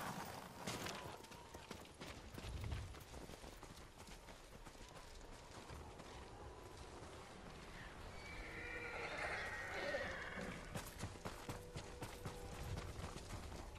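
Horses whinny and neigh with clip-clopping hooves in the video game Ghost of Tsushima, the calls rising and falling over a quiet bed of game ambience and mechanical clatter, while voices speak.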